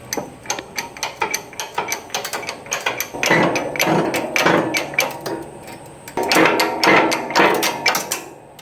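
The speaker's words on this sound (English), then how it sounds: "we're going to get this bearing pressed on" A bearing is pressed onto the front output shaft of a Dana 20 transfer case from a 1966 Ford Bronco, heard as a rapid series of sharp metallic clicks and ratcheting knocks, close and fairly loud, ending in denser clattering bursts.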